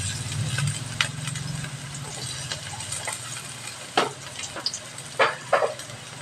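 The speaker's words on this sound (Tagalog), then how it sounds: "may pinainit na po ako ditong oil sa ating pan. So, unahin ko yung ating bawang at luya." Garlic and ginger sautéing in hot oil in a large pan, a low steady sizzle with a few sharp clinks and stirring scrapes near the end.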